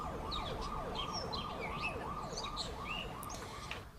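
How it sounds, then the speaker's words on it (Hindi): An ambulance siren wails in a steady, repeating up-and-down sweep, loud and close throughout, with high chirping bird calls scattered above it and no talk. "एम्बुलेंस अभी रास्ते में है।"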